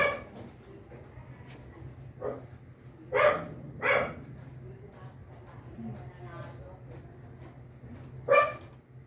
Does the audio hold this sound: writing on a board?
no